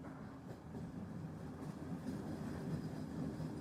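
A train rumbles steadily at a station platform, a low, continuous rolling drone that slowly swells, heard from a distance with no voices.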